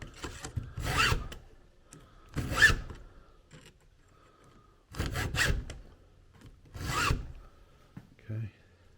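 A chain on a Stihl MS362C chainsaw is sharpened by hand with a file, giving four separate bursts of rasping strokes with quiet pauses between, close and clear, and a short knock at the end.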